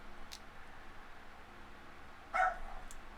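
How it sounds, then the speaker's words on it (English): Single bark from a female dog in the background, brief and somewhat distant against quiet room tone. "I don't know if you hear my female barking in the background"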